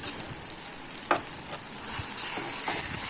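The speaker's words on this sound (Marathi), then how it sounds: "त्याच्यामध्ये जो मी शेंगदाण्याचा मसाला केलेला होता तो 2 चमचे घालून घ्यायचा, तो छान मिक्स करायचा" Peanut masala is stirred into frying stuffed aubergines, a continuous close sizzle broken by a few soft spoon scrapes and clicks.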